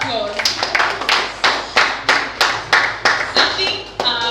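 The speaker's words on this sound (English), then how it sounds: "Please let's give another round of applause." Applause for a spoken word poetry performance in Lagos: audience clapping in a steady series of sharp, regularly spaced claps, loud and close, with some people talking underneath.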